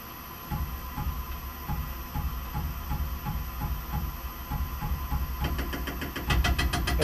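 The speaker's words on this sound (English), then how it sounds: "Okay, spindle on. And I'll step down in thou increments." A milling machine spindle runs with a steady motor hum and faint rhythmic pulsing while a cutter steps down into a homemade railroad blacksmith anvil, growing louder and busier near the end as the cut begins.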